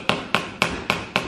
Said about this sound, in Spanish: anda con el martillo por toda la casa